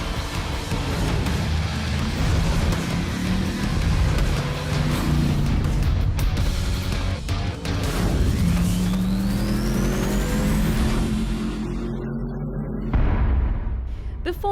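A Mercedes-AMG GT3 race car with a naturally aspirated 6.2-litre V8 roars loudly on a race track, its engine note climbing and falling through repeated revs and gear changes, sounding close and continuous before fading at the end.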